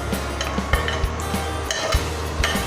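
Baby potatoes stirred in a pot while cooking undhiyu, a Gujarati vegetable dish, with a spoon knocking and scraping against the pot in a few separate clanks over a low background.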